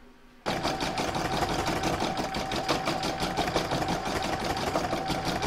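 An embroidery machine quilts a bauble design, starting abruptly and then running in a steady, close, rapid needle chatter over a humming motor, with no voices.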